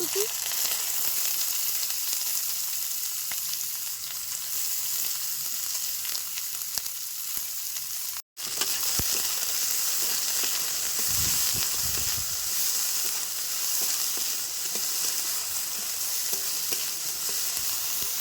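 Onion and garlic fry in a pan with a constant loud sizzle and hiss, broken by stirring and scraping, close up and without speech, in a village kitchen.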